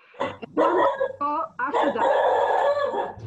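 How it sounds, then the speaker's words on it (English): A dog barks several times in quick bursts in a home during an online artist panel, loud and close, with a person speaking over and between the barks. "Oh, that's a dog."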